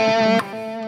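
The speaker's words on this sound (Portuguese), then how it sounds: "Agora com delay." Electric guitar played through a MeloAudio Tone Shifter Mega multi-effects unit with delay switched on: a bright, sustained distorted chord that shifts briefly and rings on, loud and close.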